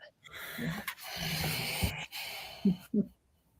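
A voice imitates sniffing, with long breathy inhalations followed by two short, sharp sniffs at close range.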